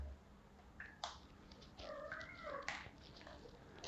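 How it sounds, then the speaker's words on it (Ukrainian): A cat makes a few short, soft meows and vocal sounds in a quiet indoor garage space, faint and close, with brief clicks and rustles between the calls. "Кицька прибіжала в гості."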